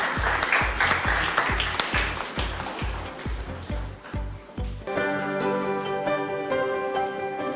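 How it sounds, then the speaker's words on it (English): An audience applauds Justice Girish Kathpalia of the Delhi High Court as he is called up at a formal event, the clapping mixed with a steady thumping beat before giving way to sustained music. "Huge round of applause for sir."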